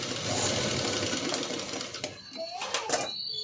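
A sewing machine stitches around the neckline of a patchwork blouse. It whirs steadily and loudly for about two seconds, then breaks into short, uneven bursts of stitching.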